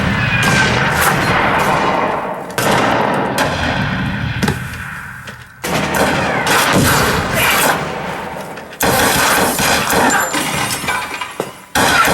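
A loud sequence of sharp gunshot sound effects with reverb-added booming tails, some with glassy shattering, each burst decaying before the next strikes.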